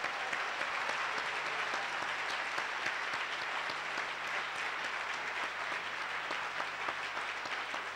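A church congregation applauds steadily and loudly, a dense, even wash of clapping hands that holds without pause from start to finish.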